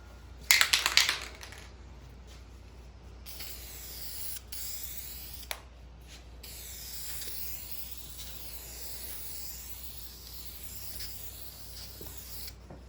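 A spray can hisses as paint goes onto a 1969 Mustang dash, one loud burst near the start, then quieter intermittent hissing and faint clicks with a soft background hum.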